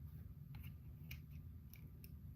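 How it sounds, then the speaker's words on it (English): A few sharp, quick snips of scissors, spaced irregularly, over a low steady background hum. "This is my laser scissors."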